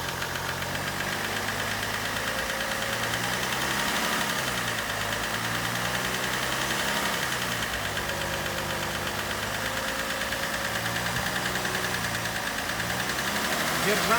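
A BMW M57 diesel engine in a 535d runs with an internal knocking fault, a steady rhythmic clatter and hum held at raised revs throughout, with people talking over it.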